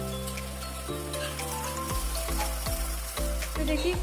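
Food frying in a home kitchen where okra with rice was just cooked and tomato lentil dal is next; a steady close sizzle runs throughout, with periodic soft stirring or utensil knocks breaking the texture.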